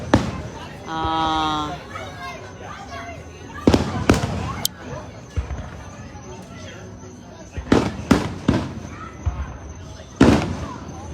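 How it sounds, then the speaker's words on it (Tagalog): Fireworks bursting at a New Year celebration, a scatter of loud sharp booms and crackles spread over the clip, some clustered in quick rapid pairs, with people talking and a whistling tone in between. "Ayan mga kaibigan, nag-fireworks na dito."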